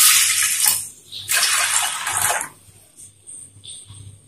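Water pours into a pressure cooker holding washed rice for a medicinal rice gruel, in a few loud splashing bursts separated by short pauses, with faint clinks near the end.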